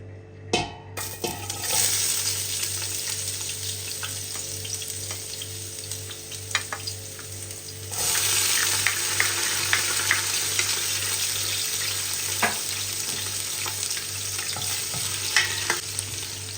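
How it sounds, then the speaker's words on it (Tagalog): Garlic and ginger sautéing in a pan of hot oil for pork sparerib sinigang, a continuous close sizzle that swells midway, with occasional spoon scrapes and clinks. "pag ako nagigisa, sasabi ko yung bawang at luya"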